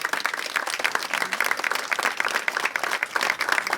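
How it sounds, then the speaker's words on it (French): Applause from an audience at the inauguration of an esplanade in Evry-Courcouronnes, a steady dense patter of many hands clapping at close range for the full length, with no talk over it. "j'aimerais que l'on applaudisse vraiment du fond du cœur notre ami Alain Bobière"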